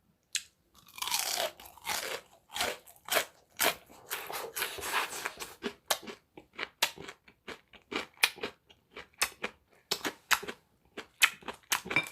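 Close, loud crunching and chewing of crispy snowflake-battered fried food, with sharp bites followed by many rapid brittle crunches in an uneven rhythm, with no talking.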